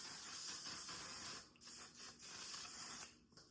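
Sephora makeup setting spray misted in a long steady hiss of about one and a half seconds, then two shorter bursts, close and fairly quiet with no talking.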